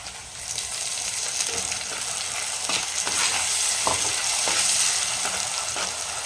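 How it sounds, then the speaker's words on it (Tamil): Onions with tomato and salt sauté in a pan over a high flame for a village-style Sankara fish curry, a steady close sizzle with occasional stirring scrapes and clinks. "ஹை ஃப்ளேம் பண்ணிவிட்டு நல்லா இந்த வதங்கட்டுங்க."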